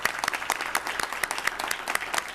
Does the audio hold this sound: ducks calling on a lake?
no